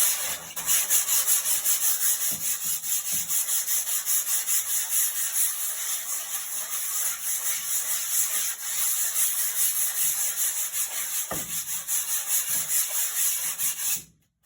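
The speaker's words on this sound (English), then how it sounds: "So I'm literally just going to sand it down." Steady, continuous scraping rasp of sandpaper rubbing back and forth over a painting canvas, close and loud, with no talking, stopping abruptly at the end.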